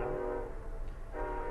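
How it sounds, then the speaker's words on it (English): Steady rumble of a passing train carries through, with sustained horn tones fading out and returning, heard alone without talk. "Pardon the train in the background."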